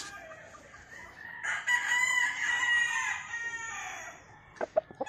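A bullstag gamecock with gray hats plumage crows loudly and at length, a long drawn-out call, followed by a few sharp clucks near the end.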